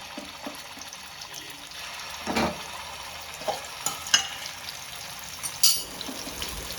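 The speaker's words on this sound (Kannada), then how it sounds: "ಮಸಾಲೆಯನ್ನು ಡೈರೆಕ್ಟಾಗಿ ಎಣ್ಣೆಗೆ ಹಾಕಬೇಕು." Fish fry masala paste tipped straight into hot oil with curry leaves in a pan crackles and sizzles, with a few sharp spits and stirring scrapes over a low steady fry.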